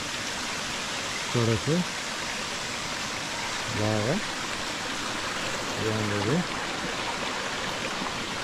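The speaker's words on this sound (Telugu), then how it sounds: "చూడండి వాటర్ ఫాల్ ఆ మీద నుంచి వస్తుంది అన్నమాట వాటర్ ఫాల్." A waterfall pours down from above in a valley, a steady broad rushing roar throughout, with a few short spoken words breaking in over it.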